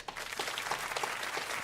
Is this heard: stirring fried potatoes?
no